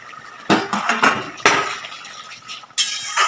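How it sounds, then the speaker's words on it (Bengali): A lid comes off a pot of prawn curry with sharp metallic clanks and clinks, three distinct hits at close range, separated by softer rattling and scraping. "আমি ঢাকাটা খুলে দেব।"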